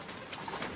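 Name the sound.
pigeon cooing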